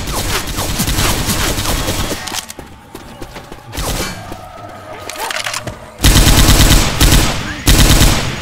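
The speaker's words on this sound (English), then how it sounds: "Grabbing the chain gun." A chain gun in a modded Left 4 Dead 2 round rattles out long, loud bursts of rapid automatic fire, pausing briefly before a heavier, denser volley resumes near the end.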